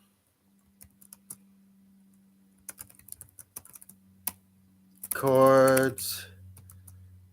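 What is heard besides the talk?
typing on a computer keyboard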